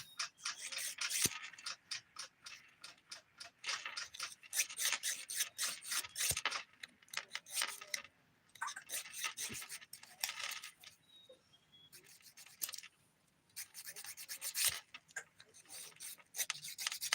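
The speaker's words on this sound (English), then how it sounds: "I'm just going to remove what little acrylic did not come off while I was filing" Steady scratchy rasping of a nail file removing acrylic from nails, a quick rhythmic back-and-forth with short pauses, close up and fairly quiet.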